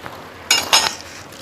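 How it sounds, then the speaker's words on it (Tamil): A metal lid is set onto a cooking pot of simmering Tamil moor kuzhambu, giving two short clanking clinks in quick succession, close and fairly loud against a quiet kitchen background. "ஒரு மூடி போட்டு மூடிடலாம்."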